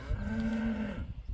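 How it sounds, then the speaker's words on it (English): Farm cattle moo loudly at breakfast time, one long sustained low bellow up close that fades out at the end. "the cows are yelling, time for breakfast"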